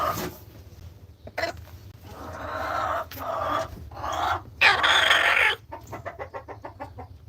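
Chickens cluck continuously close by while a rooster nearby lets out louder, drawn-out calls, and a rapid run of clucks at the end.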